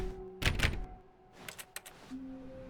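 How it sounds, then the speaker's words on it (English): Keyboard key press sound in The Stanley Parable: a few sharp clacky thuds, first a heavy double clunk, then several lighter clicks, over a faint steady hum. "pressing E on my keyboard, it makes a keyboard sound, is very bizarre"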